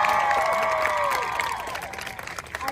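Crowd applause and cheering at a campus protest, loud and continuous, with shouts and whoops over sustained clapping that thins slightly toward the end.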